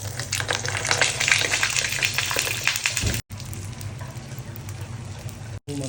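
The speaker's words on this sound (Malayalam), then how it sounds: "ചൂടായ തവയിൽ കുറച്ച് വെളിച്ചെണ്ണ ഒഴിച്ചിട്ട് നമുക്ക് മീനൊന്ന് പൊള്ളിച്ചെടുക്കാം." Fish sizzles in coconut oil on a hot tawa, a steady dense hiss and crackle of frying that runs continuously at close range with two brief cuts.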